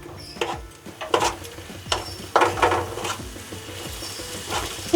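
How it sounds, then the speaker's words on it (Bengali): Masala for egg tarka fries on a high flame, with a soft sizzle under irregular scraping strokes of a spatula against the pan, close and moderately quiet. "এবার ফ্লেমটা একটু হাই করে দিয়ে মশলাটা কষিয়ে নিতে হবে।"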